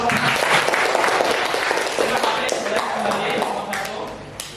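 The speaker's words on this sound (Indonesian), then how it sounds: "Kita beri tepuk tangan." A classroom audience applauds after a group presentation, dense steady clapping filling the whole stretch at moderate loudness, with voices murmuring underneath.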